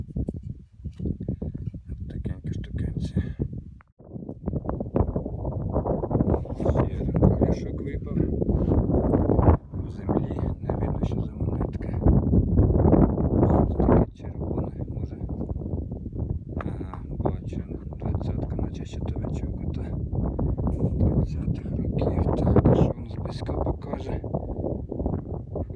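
Strong wind buffets the microphone in heavy, continuous rumbling gusts, with a person talking intermittently underneath.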